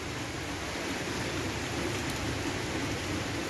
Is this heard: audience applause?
no